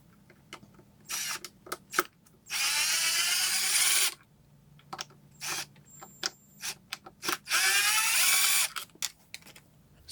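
A power drill with a screw bit backs out screws on an ECOXGEAR ECO Boulder+ speaker, giving two sustained whirring runs of a couple of seconds each between short bursts and clicks, close and loud.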